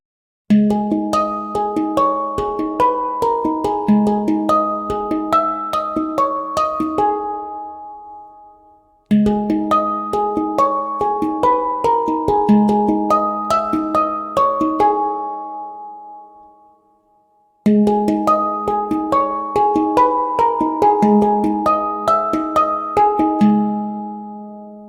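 Fracture Sounds Zen Meditations virtual instrument, played dry without atmospheres, rings out in three separate phrases of layered, bell-like harmonic tones that each swell, sustain and fade away clearly on their own.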